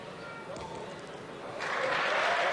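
An audience claps at the 1995 Canal+ trophy pétanque final in a steady patter that swells louder toward the end, heard from a moderate distance with a faint commentator voice underneath.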